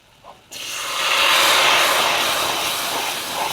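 Wine pours slowly into a hot pan of mushroom soup, setting off a loud, sudden hiss of steam that swells within a second and holds steady to the end, close and alone.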